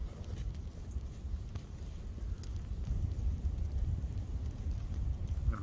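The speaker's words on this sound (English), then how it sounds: "The wind's starting to pick up again" Wind gusting across a snowy mountain campsite in the Appalachians during a snowstorm, a steady rumbling roar buffeting the microphone throughout, with no voices.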